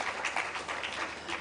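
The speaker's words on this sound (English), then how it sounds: "Requesting we give a better applause for Professor Mtu." A brief burst of audience applause for a professor at a high-level forum, a dense wash of clapping heard at moderate distance.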